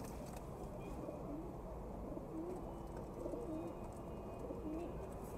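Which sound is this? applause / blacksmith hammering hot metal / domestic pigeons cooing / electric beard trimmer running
domestic pigeons cooing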